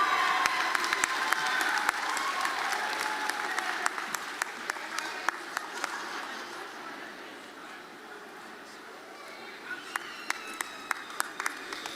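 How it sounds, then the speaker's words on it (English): Sustained applause from a college commencement crowd honoring graduates, dense at first with scattered sharper claps, thinning and fading toward the end. "Let's give a round of applause for all our graduates"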